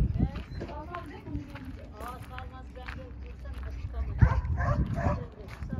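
Several farm dogs play and chase each other outdoors, yipping, whimpering and giving short excited barks close by, while a person talks over much of the commotion.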